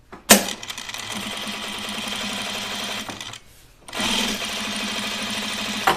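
A sewing machine runs in two bursts while stitching a button-up shirt, a fast, loud, mechanical rattle that stops briefly and then starts again.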